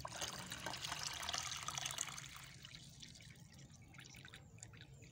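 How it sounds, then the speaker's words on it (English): Water pours and trickles into a drip coffee maker's reservoir, a soft, steady liquid rush that fades to lighter dribbling after a few seconds, with no talking. "I'm putting the water."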